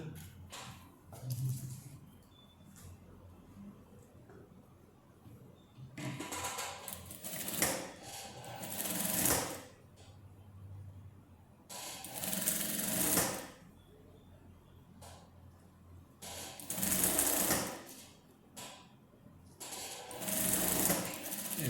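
A sewing machine stitching a wrap dress runs in several separate bursts of rapid mechanical whirring, each a few seconds long, with quieter pauses between them, close and moderately loud, no voices.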